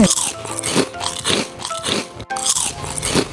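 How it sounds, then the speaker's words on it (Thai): Teeth biting into a fresh mango picked straight from the tree, giving loud close crunches in a few repeated bites with chewing between them. "กรอบกรอบกรอบก็คือสดๆจากต้นเลย"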